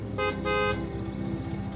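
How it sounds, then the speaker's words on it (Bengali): A car horn sounds two quick honks, the second slightly longer, close and loud against a low engine rumble in a dramatized street scene. "কিন্তু অয়ন কিছুটা এগোতে হঠাৎই পেছন থেকে শ্রীমন্তীর গাড়ি এসে হর্ন বাজালো"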